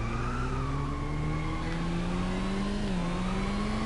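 Racing car in the drifting video game Inertial Drift: a loud, continuous engine drone with pitch that rises and dips, and a sustained tire-squeal skid layered over it, with no talking.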